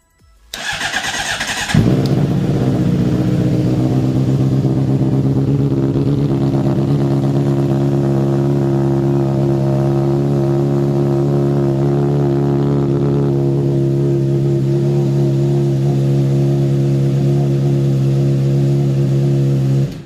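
A Honda CBR600RR sport bike fitted with a Tocè exhaust cold-starts after a brief cranking whir, then settles into a loud, steady, throaty idle that runs unbroken for the rest of the clip, close to the microphone.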